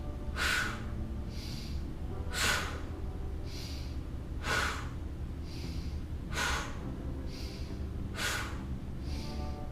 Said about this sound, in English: take that bellow breath of the inhale all the way in